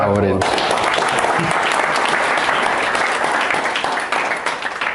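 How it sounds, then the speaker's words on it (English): Audience applause at a marketing mastermind event in Tenerife, breaking out after a brief voice and continuing as a full, steady clapping crowd that begins to taper near the end. "An applause for it."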